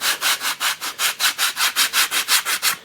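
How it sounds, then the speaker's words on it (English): A sanding block rasps back and forth over the bevel edge of a laminate countertop in a quick, even rhythm of about fourteen close strokes. "block sand off this area of the bevel edge"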